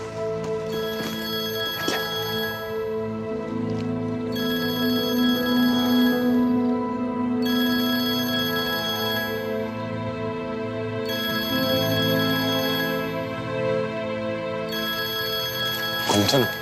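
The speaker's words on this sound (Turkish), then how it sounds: "Büyük Bey'in telefonu çalıyor" A telephone rings in repeated bursts of a bright electronic bell tone, loud and near, sounding about every two seconds while voices and background music play underneath.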